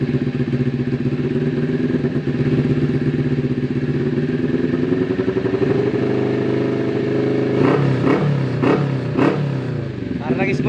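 A 2022 CFMOTO 400cc motorcycle engine runs close by at a steady, buzzing idle, then rises in several short, sharp revs toward the end, with people talking nearby.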